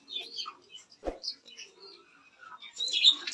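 Racing pigeons at a pigeon farm give soft, scattered chirps and calls near the microphone, with a brief knock and quiet gaps between them and a faint voice at moments.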